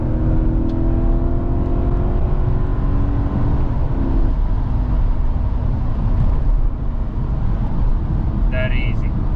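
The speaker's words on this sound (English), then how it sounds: "you can upshift and downshift on your steering wheel, and literally you're on 3rd gear, 3000 RPM, and it kicks in straight away" A rare Alpina B10 V8S Touring's V8 drones steadily from inside the cabin as it downshifts and pulls, with someone talking over the engine throughout.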